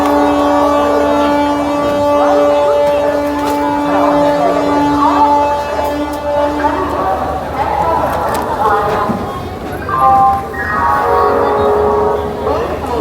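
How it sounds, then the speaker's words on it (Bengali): The 18615 Kriya Yoga Express pulling out of Howrah station, with a long tonal horn blast, later horn calls and a low rumble of wheels and platform bustle, heard over loud nearby voices. "নটা 10 ছেড়ে দিল হাওড়া থেকে 18615 ক্রিয়া যোগা এক্সপ্রেস"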